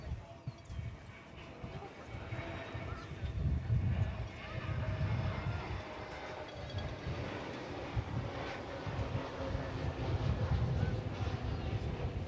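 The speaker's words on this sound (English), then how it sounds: "It has everything to do with being an Airbus A321 Neo coming from Phoenix, Arizona." An American Airlines Airbus A321neo jet arriving from Phoenix gives off a low, rumbling engine roar that swells and fades over several seconds, fairly distant, with someone talking intermittently.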